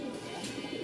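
A male Rajshahi loft pigeon, paired with a mate, gives a brief low cooing warble, soft and close, over light background noise.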